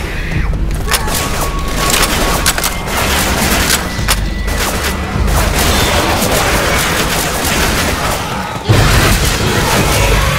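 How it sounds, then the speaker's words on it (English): Loud bursts and booms from a grenade explosion in Left 4 Dead 2, set amid continuous heavy gunfire and chaotic battle noise, with a sharp blast standing out near the end. "Grenade!"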